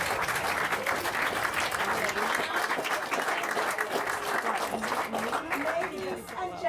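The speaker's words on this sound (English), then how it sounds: "please greet and welcome with lots of noise and applause for the very first time the newly married Mr. and Mrs. Lee." Wedding guests applaud and cheer the newly married couple, a loud, sustained wave of clapping from the crowd that carries on with voices mixed in before easing off near the end.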